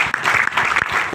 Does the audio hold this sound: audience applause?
yes